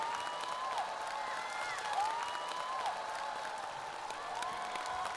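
A television studio audience at a music show claps in sustained, dense applause, steady and full throughout, with sung or whistled tones drifting above the clapping.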